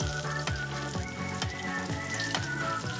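Garlic frying in a pan for adobong sitaw gives a steady, continuous sizzle, with musical tones and regular beats running over it throughout.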